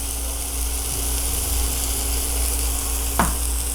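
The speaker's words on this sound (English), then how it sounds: "place the salted side down onto the pan" A salted beef burger patty, for a re-creation of McDonald's original 1955 hamburger, fries in a pan with a steady broad sizzle that stays even throughout and rises in one brief sharper hiss near the end.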